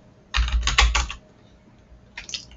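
Two bursts of typing on a computer keyboard while a person enters text into the Sway online application, a dense run of fast clicking keystrokes followed by a shorter flurry after a pause.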